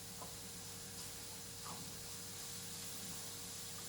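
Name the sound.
beetroot sautéing in olive oil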